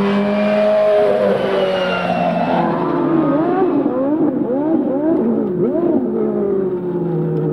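Nigel Mansell's Lola Indycar at the 1993 Phoenix Indycar Grand Prix circuit screams past with a high-pitched race engine whine, joined by several other cars whose wailing pitches sweep up and down in quick succession.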